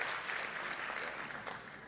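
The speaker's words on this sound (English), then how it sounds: "let's give a round of applause, please" An audience at a business breakfast panel discussion claps in a steady, dense round of applause that holds evenly throughout, with no voices over it.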